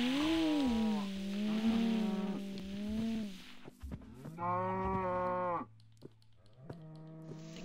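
Cows mooing in the video game Minecraft near a herd of cattle, several long drawn-out moos in succession, close and clear, with no talk over them.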